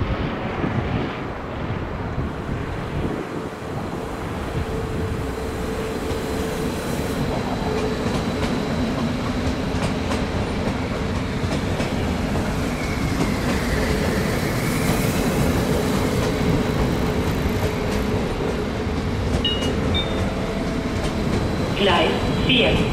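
Trains move through Koblenz railway station with a continuous rumble of passing rail cars, faint clickety-clack and wind buffeting the microphone, under a low, steady level of station noise.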